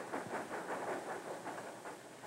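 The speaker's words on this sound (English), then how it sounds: "He hears the train coming into the station" A narrow gauge steam train rumbles with a rhythmic clickety-clack and a hissing wash of noise as it arrives at a station, steady and moderately close.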